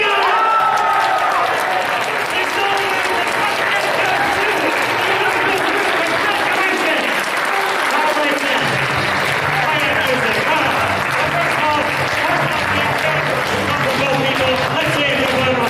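A crowd at a live furry convention Family Feud game show claps loudly and continuously, dense applause filling the whole stretch with cheering voices mixed in.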